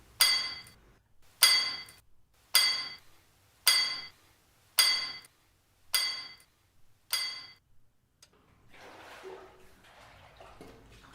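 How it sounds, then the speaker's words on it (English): Seven evenly spaced metallic strikes ring out as a miner hand-drills rock with hammer and steel in a mine, each clang decaying before the next, then a soft scraping rustle follows. "Once the hole is cleared, he resumes drilling."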